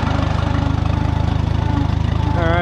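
A Minneapolis Moline tractor engine runs steadily at close range, a loud, even low throbbing idle with a regular mechanical pulse and no talking.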